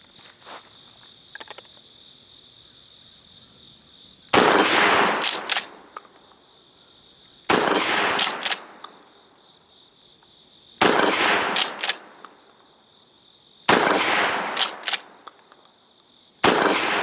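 A Gforce GF12P shotgun fed from a 25-round drum fires outdoors in five separate rapid bursts of loud, sharp shots with quiet gaps between them, while insects buzz and chirp steadily in the background.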